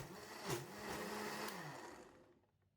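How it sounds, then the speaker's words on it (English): A blender whirs loudly as it blends pandan leaves with water, its motor pitch rising and then settling into a steady drone before winding down to silence. "Add all the water into the blender as well. And blend for 20 seconds or until well combined."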